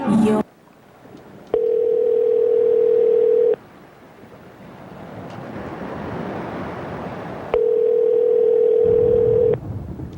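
A telephone call on a local cable-access show with two long, steady tones of about two seconds each, separated by a stretch of hissy, surging line noise, loud and prominent.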